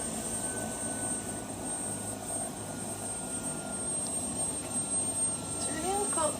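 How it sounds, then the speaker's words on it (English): Several helicopters flying over an airport, a steady broadband rotor and engine drone that stays fairly loud throughout, with wind noise and a faint rising tone near the end. "2 helicopters. 3 helicopters."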